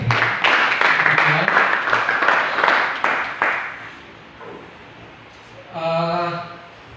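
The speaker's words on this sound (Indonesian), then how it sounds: "Kita berikan tepuk tangan buat teman-teman yang melayani." A church congregation claps for those who served at a Saturday evangelistic service, a burst of loud, close applause for about three seconds that fades out, followed by quieter room sounds and a brief voice-like tone.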